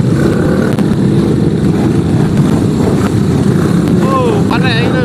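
Thunder Custom LS250-S bobber motorcycles set off together on a convoy, a loud steady engine drone with rising revs as the group rolls away.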